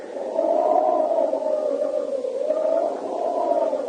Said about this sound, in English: You hear the wind?